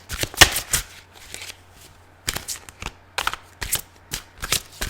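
Tarot cards are shuffled by hand in quick, close bursts of crisp riffling and slapping, several separate rounds divided by brief pauses.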